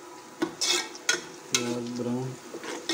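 Sliced onions frying in hot oil while being stirred, for a Pakistani-style dal lobia fry: a steady sizzle broken by a few sharp scraping strokes of the spoon against the pan, close and moderately loud with no talking.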